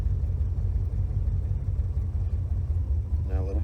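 A manual-transmission car engine idles near the clutch friction point, a steady low rumble throughout, close and continuous, with a brief higher engine whine rising near the end.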